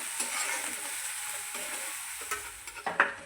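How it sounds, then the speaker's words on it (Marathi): Potato and vegetable filling for aloo toast sizzles in a pan while being sautéed, a close, steady frying hiss broken by a few scraping stirs near the end. "आता आपण ही मस्तपैकी भाजी परतून घेणार आहोत छानपैकी."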